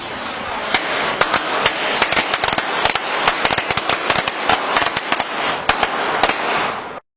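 Homemade firecrackers go off in a rapid, irregular string of sharp, loud bangs during a building-collapse experiment, the pops overlapping for about seven seconds over a constant hiss and then cutting off abruptly.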